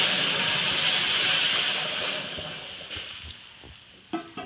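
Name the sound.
lentils added to hot tempering oil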